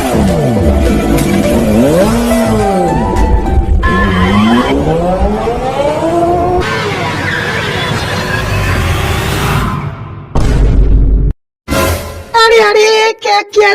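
A dramatized car crash: a long, wailing tire squeal swoops up and down, then gives way to rough rumbling, a sudden silence and a final burst of sharp impact noise.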